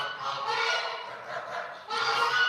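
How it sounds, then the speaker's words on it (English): Geese honking at a countryside centre, a dense overlapping chorus of calls that swells, dips briefly and returns loud near the end, with no talk over it. "We can certainly hear the geese."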